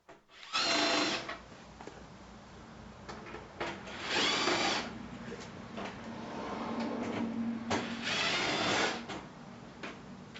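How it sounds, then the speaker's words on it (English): On a 2024 Ford Escape, a power tool spins out bolts holding the bumper cover to the heat shield. Three separate loud whirring bursts come close up, with quieter handling and tool noise between them. "I then removed the bolts connecting the bumper cover to the heat shield"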